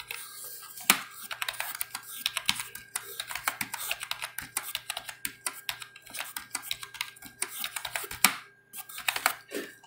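Quiet, steady typing on a computer keyboard while a value is entered into an Excel sheet, a rapid run of soft key clicks with brief pauses and no talking.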